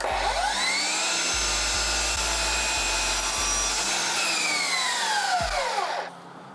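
Miter saw set at 25 degrees cutting a long 70-degree angle through wood, a loud continuous whining buzz of the blade biting in, then spinning down and stopping near the end.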